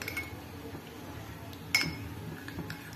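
A spoon clinks against a bowl while stirring cornflour into milk, giving light intermittent taps with one sharper metallic clink in the middle, close and fairly quiet over low room noise.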